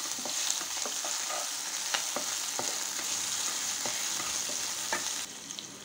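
Finely chopped green chillies and curry leaves sautéing in a pan for potato masala, a steady close sizzle with scattered sharp pops and a few stirring clicks, no voices.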